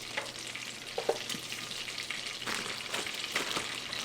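Batter-coated walleye frying in a pan of hot vegetable oil at around 350 to 400 degrees, a busy crackling sizzle with pops and bursts, close and steady, no talk.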